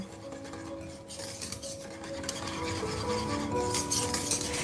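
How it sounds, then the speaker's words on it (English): Asparagus and cheese quiche filling is whisked in a bowl, a close, continuous rubbing and scraping with light clinks of the whisk against the sides. "we're gonna give it a little whisk, just to combine those ingredients together"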